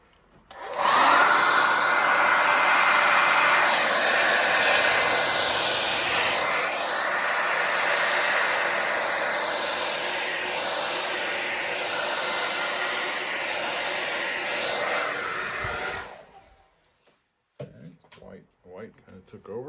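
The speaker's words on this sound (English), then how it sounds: "We'll get the trusty hair dryer." A hair dryer blows with a loud, steady rushing whoosh for about fifteen seconds, drying acrylic pour paint, then cuts off, leaving a few faint clicks and rustles.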